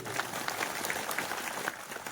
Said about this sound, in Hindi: कवासी लक्ष्मण जी के जोरदार ताली बजाइए